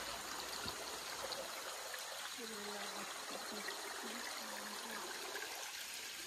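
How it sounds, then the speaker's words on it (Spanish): Water from a natural spring on a ranch flows steadily as a continuous trickling, streaming wash, with a voice talking briefly over it partway through. "Miren, aquí está un manantial o un nacimiento que le llaman."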